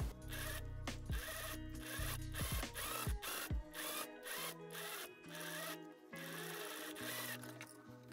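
At close range, a sewing machine closes a fabric seam on a gown, its motor rising and falling in repeated short bursts with quick rattling stitches. Clear pauses separate the bursts, and there is no talking.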